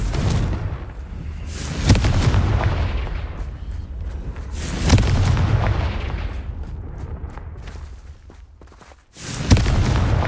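Confringo blasting-spell explosions in the video game Hogwarts Legacy: three loud, booming blasts land a few seconds apart, each with a sharp onset and a rumbling tail.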